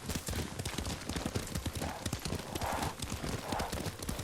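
A horse ridden in the video game Ghost of Tsushima gallops with rapid, continuous hoof clip-clops, loud and close, under a wash of wind and ambient game sound.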